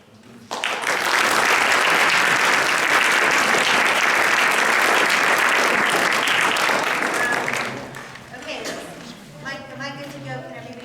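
Audience applause welcoming a speaker to the stage at a faith talk in Providence, a dense, loud burst of clapping that swells quickly, holds steady for several seconds, then fades into scattered claps and murmuring.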